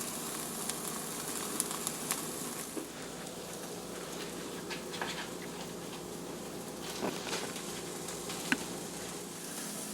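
Hamburger patties for burger Wellington sizzle in a pan, a steady, soft crackling hiss with scattered small pops, fairly quiet and uninterrupted.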